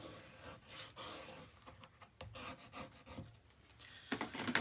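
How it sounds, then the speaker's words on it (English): Tape being burnished down onto a paper page of a mini album, giving a steady close rubbing and rasping sound in repeated strokes, with a few firmer pushes near the end. "Then we're going to give a good burnish to that tape."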